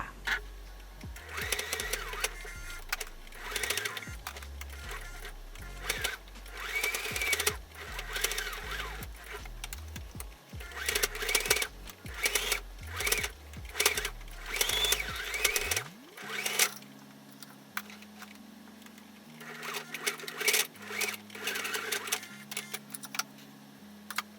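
A sewing machine runs zigzag stitches around the edges of a fabric coaster, over a crocheted braid, in repeated bursts of rapid mechanical chatter with short pauses. A lower steady hum takes over near the end.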